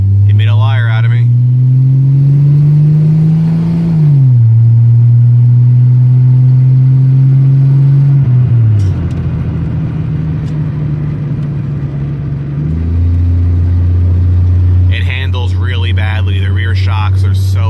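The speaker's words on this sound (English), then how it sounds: "I'll give you an acceleration run here for that corner." A 1983 Ford LTD engine revs loudly and close up during an acceleration run, climbing in pitch through several gear changes, with a brief bog partway through and a driver speaking over it.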